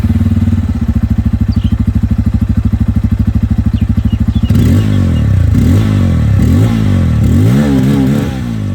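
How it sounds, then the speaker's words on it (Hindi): A Bajaj Pulsar N250 motorcycle exhaust idles close by in a loud, rapid, even pulsing thrum, then the engine is revved in several rising and falling bursts, with no talking over it. "सबसे पहले मैं आप लोग को यहाँ पर जो N250 है उसकी आवाज़ में आप लोगों को सुना दूं।"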